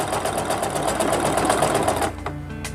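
A sewing machine with a ruffler presser foot stitches fabric in a fast, even, buzzing rhythm, loud and close, then slows and stops near the end, leaving a few faint mechanical clicks.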